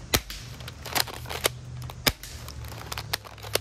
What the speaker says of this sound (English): I think you start shooting 1 BB once it's starting to get lower, because there's not enough pressure to feed them other BBs.